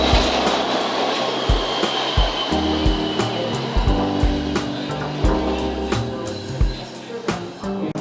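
Loud, continuous rumble of a PATH commuter train running on rails in New York, with rhythmic clacks and a whirring roar throughout, heard from inside the carriage.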